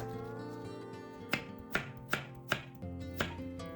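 Carrots being diced into rough cubes with a knife on a cutting board, for a vegetable soup with onion and celery: about six sharp, close knife chops at an uneven steady pace, with no talking.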